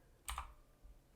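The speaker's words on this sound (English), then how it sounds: "Do this by pressing 5 on the keyboard" A single key pressed on a computer keyboard, a faint quick double click standing out once against a quiet background.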